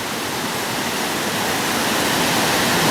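Water rushes steadily down a mill lade in Crieff that flows on toward the River Erne, a loud, continuous broadband wash like a small weir or waterfall, close by with no voices.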